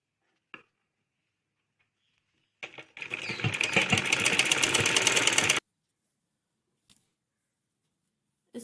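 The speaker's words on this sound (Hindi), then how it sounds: "इस तरीके से हमें सही करते हुए सिलाई लगाएंगे इसके ऊपर" Sewing machine stitching fabric for a frilled baby top, one continuous rapid mechanical run of about three seconds, close and fairly loud, framed by faint handling clicks and silence.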